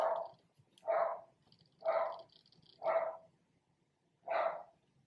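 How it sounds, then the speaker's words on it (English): A pet dog barks five times in an evenly spaced series, each bark clear and fairly close against a quiet indoor background, with no talking. "My dog."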